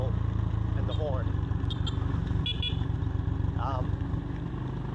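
A motorcycle decelerates downhill with a steady low engine drone, fairly loud and close throughout, while a few faint high chirps sound above it.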